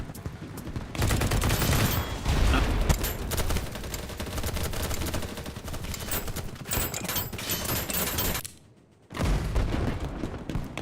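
Sustained heavy gunfire in the shooter Battlebit, with dense overlapping rifle shots and a brief lull near the end before the firing resumes, loud and close.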